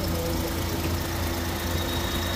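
A Maruti Suzuki Wagon R petrol engine idling steadily just after a long cranking struggle, a close, even low hum with a slight rhythmic pulse and no voices over it.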